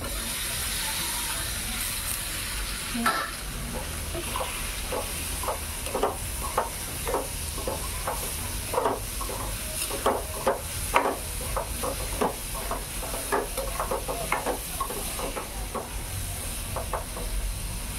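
Tempering (phodni) for a bottle gourd curry sizzles in a pan: a steady frying hiss runs throughout, broken by scattered crackles and pops that grow busier midway, with no talking.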